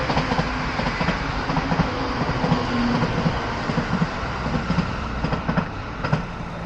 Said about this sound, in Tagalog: May train. Ayan, train. Sakto train.